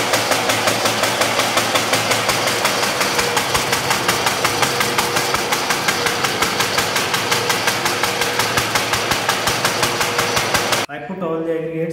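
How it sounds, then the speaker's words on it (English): A sieve shaker machine vibrates a nest of sieves full of aggregate, a loud rapid rhythmic rattling and knocking that runs steadily before stopping abruptly. "I put all the aggregates in the sieve shaker machine."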